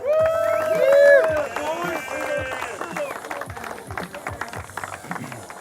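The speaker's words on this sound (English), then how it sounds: "Round of applause one more time." Applause for bowhunting competitors at a qualifier event, a scattered round of claps with voices and crowd chatter over it, strongest early and thinning out.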